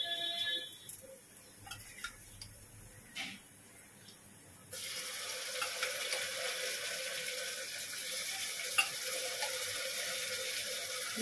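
Meat dropped into fried onions in a hot pan on a gas stove, with a sudden loud burst of sizzling that holds steady after a few quiet clinks and handling sounds; no talking.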